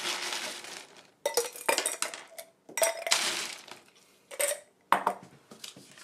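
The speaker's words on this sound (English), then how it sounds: "Put a little ice in the glass." Ice cubes clink and rattle into a glass in several separate bursts, bright clattering against the glass with short pauses between scoops, close and fairly loud.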